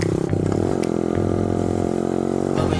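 A Honda CRF50 pit bike engine drones loudly and close as it is ridden, a steady buzzing note with small shifts in pitch as the throttle varies, and no voices.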